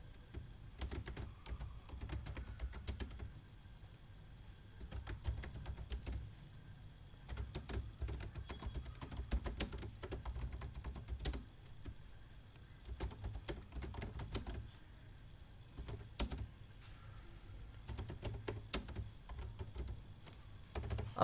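Steady typing on a computer keyboard, with rapid clustered keystroke clicks in bursts and short pauses, close and fairly quiet, no one speaking.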